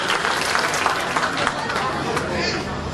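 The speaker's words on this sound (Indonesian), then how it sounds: "tepuk tangan pada Ayu" Applause from a crowd of Bojonegoro residents at a gathering in Taman Mini Indonesia Indah, a continuous dense clapping roar mixed with chatter and cheering.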